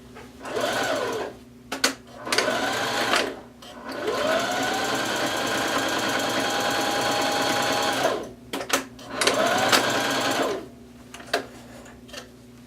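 A home sewing machine stitches a long fabric strap for a kids apron, running in short bursts and one long steady run of rapid rhythmic clatter, close and loud, with small pauses and handling noise between.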